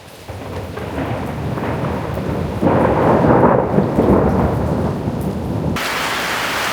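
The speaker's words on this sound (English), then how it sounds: "I'm basically stuck underneath this porch while I kind of wait for this rain to pass." A thunderstorm in Italy brings heavy rain pouring down from under a porch, with a loud rumble of thunder rolling through the middle and steady, dense downpour throughout.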